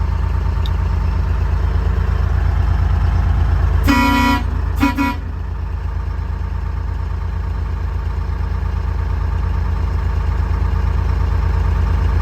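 Steady, close car engine idle after a cold start with oil warming, a continuous low rumble that holds throughout, broken briefly near the middle by a short double honk of the horn.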